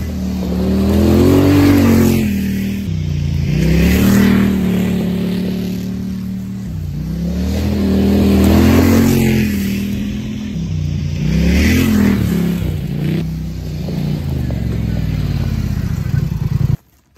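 A Polaris Scrambler 850 ATV, widened by ten inches, revs loudly while driving, its engine note rising and falling in repeated cycles as it turns around a corner, close and dominant, cutting off at the end.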